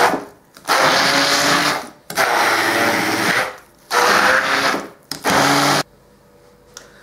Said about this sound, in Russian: И погружным блендером нам нужно сейчас все это размешать